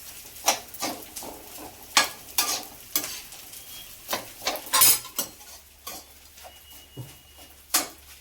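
Edible gum (gond) roasting in desi ghee in a pan, with repeated scraping strokes of a spoon at an even rhythm over a soft, continuous sizzle, close and clear.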